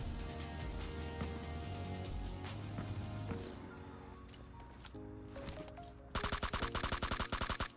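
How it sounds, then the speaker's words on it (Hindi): Gunfire rings out in PUBG Mobile, with scattered shots and bursts in the first half, then a loud, rapid automatic volley near the end, set among game ambience with no speech. "उस बंदे पे कोई और बंदा फायरिंग करने लगा था"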